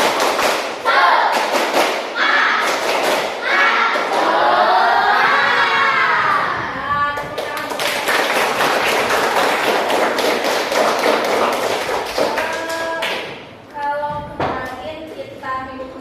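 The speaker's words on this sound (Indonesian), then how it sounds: "Tepuk semangat." A group in a coding and AC vocational training class claps in rhythm, loud and close, with sharp thuds and bright voices shouting along for most of the stretch before it breaks off near the end.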